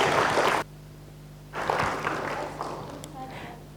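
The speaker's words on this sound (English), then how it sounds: "if we could just give them a big round of applause" A short burst of clapping from a small crowd, breaking off abruptly, then a pause before more applause resumes with some voices underneath.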